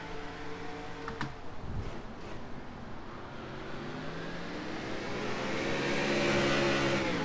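Race cars in an F1-style racing video game pull away from a green-flag start at Edmonton, engines rising in pitch and swelling louder together over several seconds, with a couple of brief clicks near the beginning.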